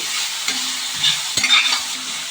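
Carrots and peas sizzle steadily in a hot pan while a utensil stirs and scrapes through them, with a few sharper knocks against the pan. The frying noise is close and constant, with no voices.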